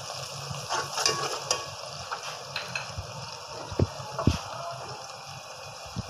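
Onions browning in a pan with ginger and garlic for spicy chicken biryani give a steady, moderate sizzle and bubbling, with occasional clinks and scrapes of a utensil.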